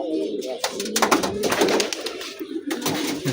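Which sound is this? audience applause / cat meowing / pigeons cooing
pigeons cooing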